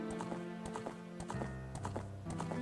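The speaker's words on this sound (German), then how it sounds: "Mit Link, der auf Epona, die hylianische Steppe entlang reitet." Hooves of the horse Epona galloping across Hyrule Field in the intro of the video game Ocarina of Time, a steady, rhythmic clip-clop with a brief whinny, set over the game's background music.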